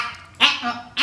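A storyteller's voice imitates frogs croaking along ponds and lakes before rain, giving two short, nasal, quack-like calls separated by a brief pause.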